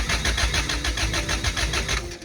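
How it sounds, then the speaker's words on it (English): A Toyota 3SGE engine fitted in a Datsun 280Z cranks over on the starter, giving a rapid, even, rhythmic chugging at close range, heard alone. "It's cranking, so it's less of a lawn ornament right now."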